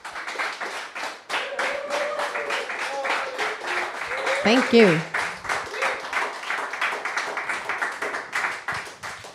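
Audience at a Vingard event claps and cheers steadily through the whole stretch, with a voice speaking briefly in the middle over the noise.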